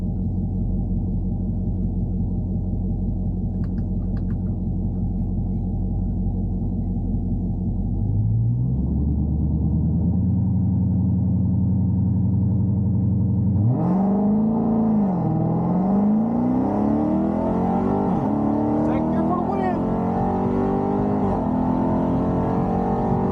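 A Dodge Charger Redeye at a drag race, idling with a deep rumble before launching hard, the engine rising in pitch through a sustained, loud run with a whining supercharger.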